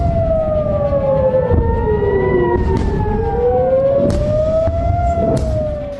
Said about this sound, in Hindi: एयर रेड सायरन बज रहा है